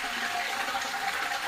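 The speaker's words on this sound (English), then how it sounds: "and then you easily flush" A toilet flushing after its broken flusher arm was repaired, a steady close rush of gushing water that holds at an even level throughout, with no talking.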